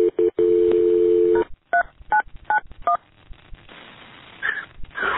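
Telephone dialing tones sound during a 911 call transfer from an animal hospital: a long steady tone, then a quick sequence of short touch-tone beeps, followed by a faint line hum.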